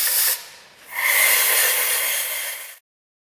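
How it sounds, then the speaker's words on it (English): Compressed air blasts from a nozzle to clean seal case and air chamber parts during a Kongsberg CAS repair: a short hiss, a brief dip, then a longer steady close hiss that cuts off abruptly. "Also, use compressed air."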